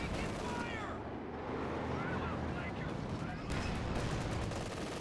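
Machine gun fire from an MG42 or .50 cal in Company of Heroes 2, a dense continuous rattle of gunfire with distant battle noise running steadily through the whole stretch, with a commentator talking over it.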